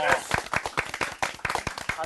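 A small studio group claps briskly for a restaurant chef during a live broadcast, with sharp, distinct hand claps at a quick, fairly even rhythm and close up.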